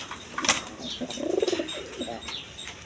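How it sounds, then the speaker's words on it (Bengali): Pair of Bombay pigeons with white beaks, a male and female, cooing close by in a soft rolling burst midway, with a wing flap or rustle just before and light background noise. "এখানে দুইটা রেশার কবুতর আছে"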